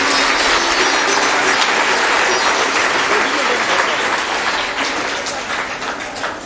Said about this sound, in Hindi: उनके लिए हम सब लोगों को ताली बजाकर उनका सम्मान करना चाहिए